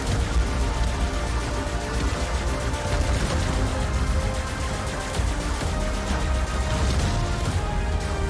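Rapid shooting from double guns in the Intellivision Astrosmash video game, a dense continuous stream of electronic blasts layered with game music, steady and loud throughout with no talking.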